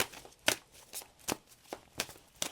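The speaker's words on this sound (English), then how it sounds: "One more shuffle." Quiet tarot card shuffling nearby, with several soft, crisp riffles and taps spaced irregularly, no voices.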